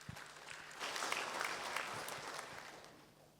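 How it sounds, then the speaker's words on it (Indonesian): A church congregation claps during a worship service, a soft, steady patter of many hands that swells after a moment and then gradually fades. "Kita berikan tepuk tangan buat Tuhan."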